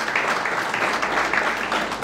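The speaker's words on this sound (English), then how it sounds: "I think it deserves a clap." An audience at a business awards event claps steadily, a dense, even wash of applause that holds at the same level throughout.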